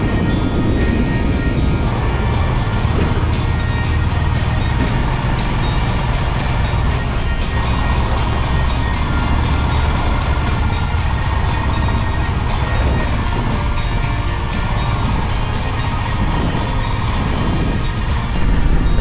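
A car crawls along a rough, broken mountain road between Hanle and Sarchu in Ladakh, its engine, tyre scrabble and rattling body noise forming a loud, continuous roar with no talk.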